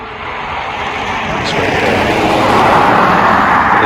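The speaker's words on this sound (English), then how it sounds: "you can just hear the cars going past now with the winter tyres on." Cars fitted with studded winter tyres roll past on an icy snow-covered road in Orenburg, Russia, producing a steady broadband rumbling hiss that swells slightly as they approach, with no talking.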